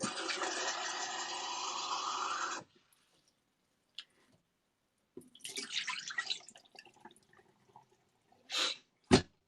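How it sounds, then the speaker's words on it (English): Tap water gushes steadily for a few seconds while a glass container is rinsed out, then stops, followed by scattered small clinks, drips and handling sounds nearby. "Let me rinse this out."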